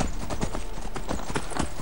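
Horse hooves clip-clop at a steady trot while riding in Skyrim, a dense, continuous run of close hoofbeats with faint game ambience beneath.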